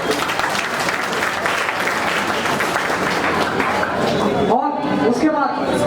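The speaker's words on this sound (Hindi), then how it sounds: "सभी लोग देहरादून के बच्चों के लिए एक बार जोरदार तालियां बजाएं" A hall of students and teachers at an academy mega test event breaks into loud, dense applause for the children from Dehradun, sustained clapping that fades out abruptly after about four and a half seconds.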